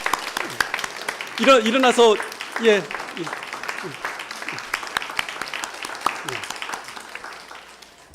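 Audience applause for a young conductor at a church gathering, steady dense clapping running throughout, with someone speaking loudly over it in the middle.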